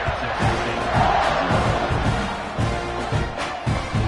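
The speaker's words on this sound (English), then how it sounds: "this crowd is buzzing after that last score" A football stadium crowd keeps up a dense, loud, steady roar after a touchdown in a college game between Texas A&M and Texas State.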